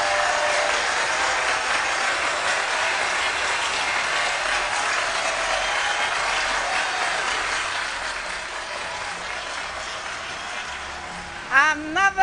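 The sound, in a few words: audience applause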